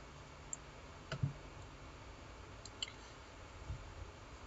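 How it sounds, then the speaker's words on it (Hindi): Soft computer mouse clicks, a few isolated faint taps spread irregularly over a quiet background hum, with no talk. "यहाँ पर हम ब्लॉगर पे क्लिक करते हैं"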